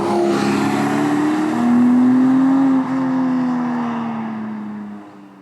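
A Porsche 718 Cayman GTS 4.0 with a six-cylinder engine drives on a racetrack, its loud engine drone sweeping down through gear changes and fading as the car moves off.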